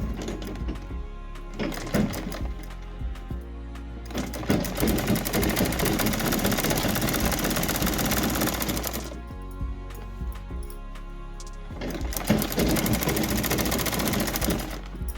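A sewing machine stitches a straight line along the inside of a large-size top. It gives a loud, rapid mechanical whirring in sustained runs, with short pauses between bursts.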